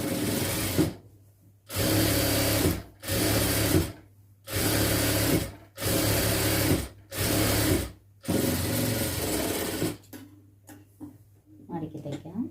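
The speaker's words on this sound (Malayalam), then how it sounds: "ഇതിൻ്റെ അരികുവശം ഒരു സ്റ്റിച്ചും കൂടി ഇട്ട് കൊടുക്കാം." A sewing machine stitches along the edge of a lined churidar in about six steady bursts with short pauses between them, close and loud, followed by quieter handling noises.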